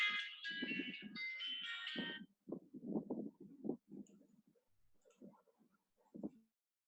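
A phone ringtone plays a short bright electronic melody for about two seconds, then soft thumps and clicks follow in the near silence.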